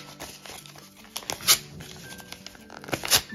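A sheet of paper is torn up by hand in a few quick, crisp rips and crinkles close to the ear, in irregular bursts with soft rustling in between.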